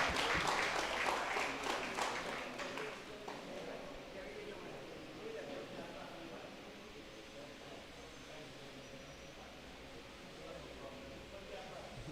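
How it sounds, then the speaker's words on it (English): Audience applause at a sports club awards presentation bursts out briefly at first, then fades within a few seconds into quieter room noise and faint murmuring. "Round of applause."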